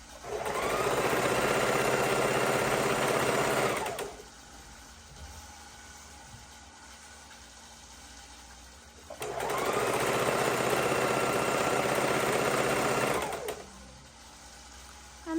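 A sewing machine stitching the border seams of a baby quilt runs in two steady bursts of about four seconds each, with quieter room sound between them and no voices.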